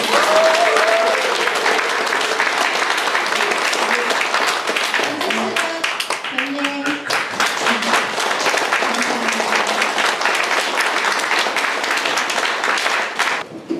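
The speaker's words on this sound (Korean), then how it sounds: "뜨거운 응원의 박수를 부탁드립니다." Loud, sustained applause from the audience at a People Power Party Sejong city campaign committee launch for the presidential election, dense clapping with a few voices and cheers rising above it.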